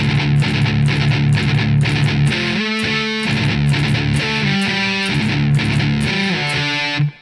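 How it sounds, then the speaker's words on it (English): Heavily distorted electric guitar plays chugging rhythm riffs and octave chords from a metalcore song, loud and steady with rapid palm-muted bursts throughout, ending abruptly. "except the octave chords are going to be a little bit different. They're going to sound like this."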